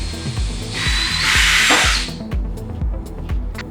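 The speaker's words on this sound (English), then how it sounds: "I'm doing about halfway, just drilling my hole." A power drill bores a hole through a hoop-making table for a rivet, a loud steady whine rising and holding for about a second before dropping away, with rhythmic low thumps continuing throughout.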